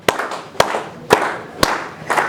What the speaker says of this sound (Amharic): አቶ ዳኘ ሞቅ ያለ ጭብጨባ አድርጉልኝ።